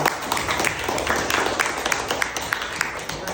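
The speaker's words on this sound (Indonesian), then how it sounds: "Beri tepuk tangan untuk kelompok." Students in a classroom clap for a discussion group after its presentation, a continuous patter of many hands with sharper individual claps standing out, fairly close, and voices murmuring underneath.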